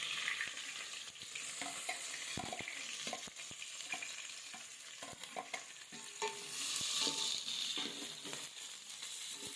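Cut onion pieces fry in hot oil with bay leaf, cinnamon, cloves, cardamom and green chillies for a Telangana-style chicken curry, a loud continuous sizzle broken by repeated clinks and scrapes of a stirring spoon.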